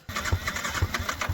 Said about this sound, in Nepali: एकछिन हामी बाइक तताउँछौँ